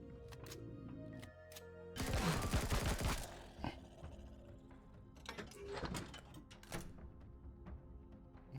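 A short burst of rapid gunfire in the space survival game Empyrion Galactic Survival, sharp and dense for about a second, followed by scattered single shots and mechanical clunks at moderate distance.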